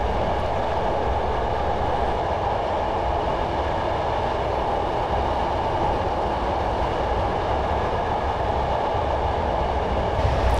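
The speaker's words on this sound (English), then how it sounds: "just allowing the train to coast along here in idle power" A Class 111 diesel multiple unit in Train Simulator 2015 coasts at idle on the Dumfries to Kirkcudbright line, giving a loud, steady rumble of engine and rolling wheels that continues without a break.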